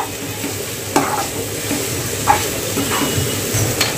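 Dill greens and dal being stirred in a frying pan, a soft continuous sizzle broken by a few sharp spatula scrapes against the pan, close and clear with no talking.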